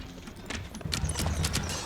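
Horseman riding in during an Age of Empires IV match, with steady clip-clop hooves and a brief whinny, loud and close, no talk over it.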